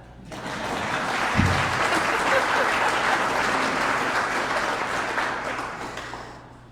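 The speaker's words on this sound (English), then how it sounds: "You can clap for that." An audience applauds at an appreciation reception, with dense, sustained clapping that swells quickly, holds steady for several seconds and then tapers off.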